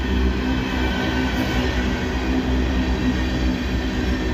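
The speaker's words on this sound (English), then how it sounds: "he's kind of going slow because he's going uphill and he doesn't have but one engine on this train." A slow freight train hauled by a single locomotive climbs uphill past the listener, a steady, loud, continuous rumble of rolling wagons with a faint rhythmic clack throughout.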